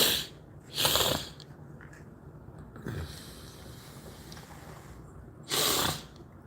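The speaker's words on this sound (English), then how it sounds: "just sniffling like that, I can't blow my nose" Someone sniffles through a stuffy nose, three sharp, close wet sniffs spaced a few seconds apart over quiet background noise, with no talking.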